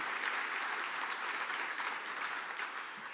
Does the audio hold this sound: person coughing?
no